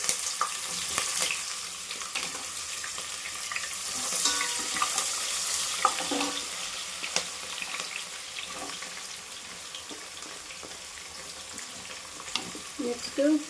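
Onions fry in a pan for chicken biryani with a steady, close sizzle, broken by the scrape and clatter of stirring.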